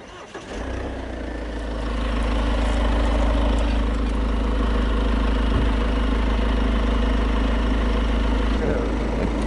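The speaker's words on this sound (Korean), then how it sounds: "지금 이제 현재 GV70 먼저 엔진 사운드를 한번 들려드리고 하겠습니다." Diesel engine of a Genesis GV70 idling with the engine bay open, a steady, loud low rumble with a fine mechanical clatter running throughout and no talk.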